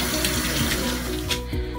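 Tap water runs steadily into a sink while a printing plate inked with water-based Speedball ink is washed with soap, a close, continuous splashing rush with no talking.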